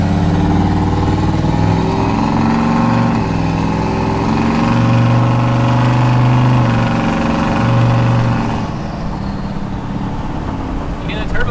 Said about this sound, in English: Again, the turbo spool up.